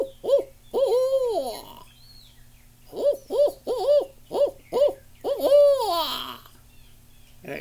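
A voice imitates a barred owl call in southeast Georgia with a long rising-and-falling hoot, a pause, then a quick series of clipped hoots ending in a drawn-out wail. The calls are close and loud over a low hum.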